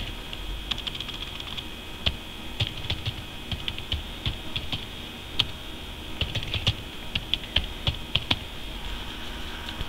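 Someone types a password on a computer keyboard, with steady, close clicking keystrokes and a few louder taps throughout, and no one speaking.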